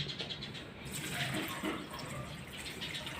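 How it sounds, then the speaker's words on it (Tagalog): Water poured from a container into a pot of snails for a Bicolano-style coconut milk dish, a steady splashing fill that continues for a few seconds at close range with no talk. "Lagyan natin ng tubig."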